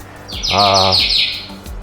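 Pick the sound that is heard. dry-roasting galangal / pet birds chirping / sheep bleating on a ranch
pet birds chirping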